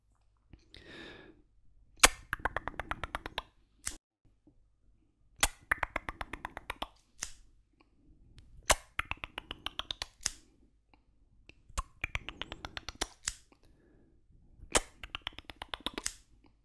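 Small scissors snip in quick bursts of sharp crisp clicks, grouped in several rhythmic clusters separated by short pauses, close up and quiet, with faint soft movement sounds between.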